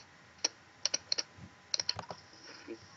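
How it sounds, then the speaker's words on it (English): Clicking while opening gift scrolls in a game: a quick, irregular run of sharp computer clicks, some in pairs, fairly close but quiet over a low background hiss. "You hear my clicking?"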